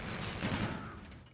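Rapid gunfire bursts from a first-person shooter game, a dense fusillade of overlapping shots that stays loud across the whole moment and tapers slightly near the end, with no talk over it.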